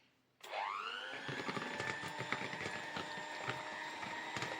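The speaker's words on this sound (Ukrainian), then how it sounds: "Спочатку збиваю на малих оборотах, щоб перемішати добре" An electric mixer starts abruptly and spins up, whipping cream at low speed for a honey cake with prunes, giving a steady whirring motor drone with rhythmic rattling ticks from the beaters against the bowl, close and alone.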